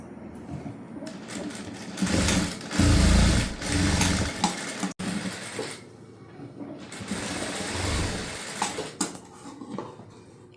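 A sewing machine joins the back of a prince-cut blouse to its front in uneven bursts of stitching, with clinks and handling thumps, one sharp knock midway and a loud low rumble early on.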